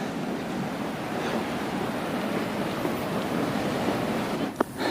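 Steady broad roar of Atlantic Ocean surf rolling in along the northern Spanish coast, mixed with wind buffeting the microphone, continuous and fairly loud, with one brief knock near the end.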